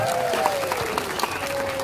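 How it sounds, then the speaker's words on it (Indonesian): Congregation clapping during a church sermon, a brief burst of continuous applause with a faint voice or tone running under it. "tepuk tangan semuanya"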